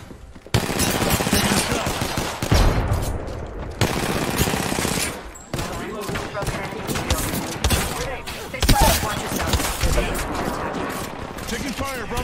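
Rapid automatic gunfire rattles in Apex Legends on PC, loud bursts arriving in repeated volleys with short gaps, close and harsh, mixed with game effects and some voices.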